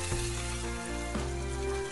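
Egg tofu, fried golden on both sides, sizzling steadily in a pan as a spatula breaks it into small crumbs, with a continuous close frying hiss and a couple of scraping stirs.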